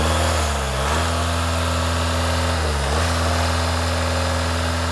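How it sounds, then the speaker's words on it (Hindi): A 2017 Audi A4 engine idles steadily and close by, with two brief dips where the revs change, and no speech over the constant hum. "मैं आपको साउंड भी सुनाता हूँ इंजन की।"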